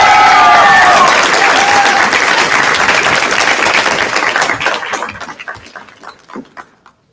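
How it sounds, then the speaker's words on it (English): Loud, dense applause from a graduation ceremony audience fills the hall, sustained for several seconds before thinning and tapering off into scattered claps, with faint voices underneath. "You guys can keep clapping"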